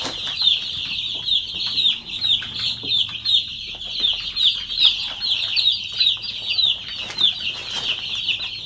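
Young chicks in a brooder peep continuously, a dense chorus of high, rapid cheeps close by, with occasional soft rustling and wing flutters and no talking.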